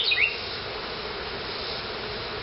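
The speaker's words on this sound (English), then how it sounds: "There's a lot of bees with pollen on their legs" Honey bees at an open hive while a beekeeper inspects heavy honey frames, a steady close buzzing hum that holds evenly throughout with no talk.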